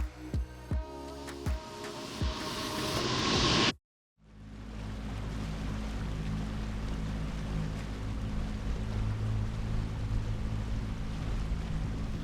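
A Stabicraft 1850 boat motoring at sea off Great Barrier Island: a brief stretch of music, then a sudden cut, then a steady low engine drone mixed with wind and water rush, constant and fairly close.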